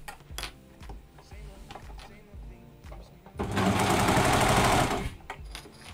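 Brother 1034D overlocker stitching jersey fabric, a close rhythmic mechanical chatter that swells into a loud continuous run for a couple of seconds before slowing back down, with faint ticking around it.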